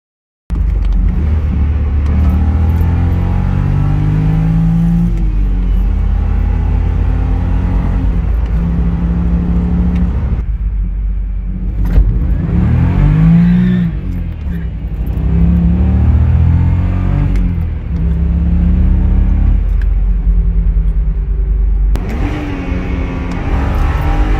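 A BMW E9x with Condor 70A polyurethane transmission mounts driving, its engine droning loud and close as it rises and falls through gears, with steady road rumble and no talking.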